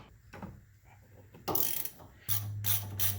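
A ratchet wrench works the single flex coupling bolt on a 1987-91 Ford F-150 steering shaft, making close, loud bursts of rapid clicking after a quiet start.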